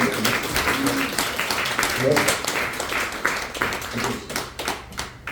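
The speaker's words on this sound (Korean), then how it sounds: "박수 한번 쳐주시면" A church congregation at a Korean Sunday service claps together, with a crisp, continuous patter of many hands that carries on throughout and thins out slightly toward the end.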